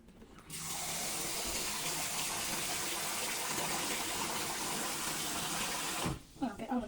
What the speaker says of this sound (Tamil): இந்த தண்ணியை வடிச்சிட்டு திரும்ப நான் கொஞ்சம் தண்ணியை ஊற்றி வச்சு